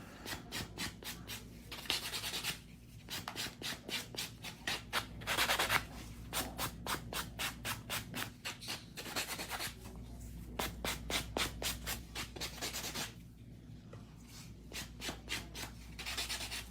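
A buffer scrubs over acrylic nails in quick back-and-forth strokes. Short bursts of dry, close rubbing are broken by brief pauses, all at a soft, even level.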